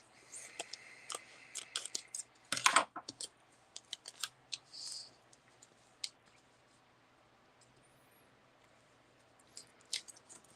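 Scissors snip out a vinyl decal for a tumbler, giving scattered close clicks and snips with a denser burst of cutting near the middle, quiet between cuts.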